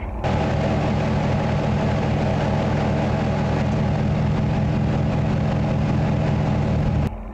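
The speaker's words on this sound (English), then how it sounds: "And this is what it sounds like idling" A Ford truck with a Borla performance exhaust idles steadily with a deep, rumbling exhaust note, constant and loud throughout, then cuts off abruptly at the end.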